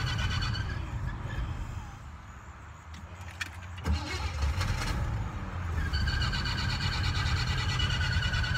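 A 1979 Cadillac Seville converted to an ice cream truck, with a manual choke, runs steadily after starting, a close, continuous low engine rumble with a brief clatter in the middle and no talking over it.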